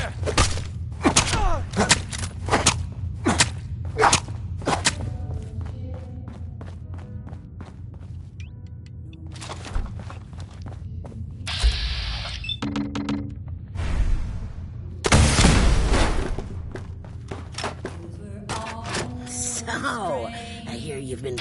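Shots fired in the video game Fallout 4, sharp bursts landing repeatedly through the first few seconds and again later, some loud and close, mixed with thuds, footsteps and game voices talking.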